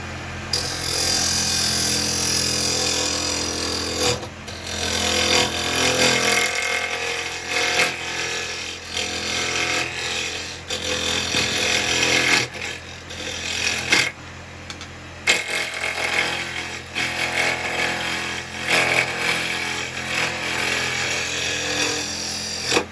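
A wood lathe spins at about 2,541 RPM while carbide chisels cut a little bowl from holed firewood, giving a loud, steady whirring roar with scraping, chattering cuts and brief dips as the tool lifts off.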